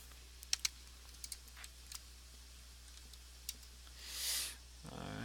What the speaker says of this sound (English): So I'm gonna type that in.